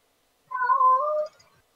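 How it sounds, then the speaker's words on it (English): A kitten meows during an Ultima Online dungeon game session: one drawn-out, wavering cry lasting under a second, fairly close and clear. No other sound is present. "There's a wee kitten making a lot of noise."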